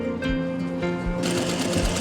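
A sewing machine stitches a pocket onto a palazzo, giving a close, steady mechanical whirr with a faint rhythmic needle thump throughout the short burst.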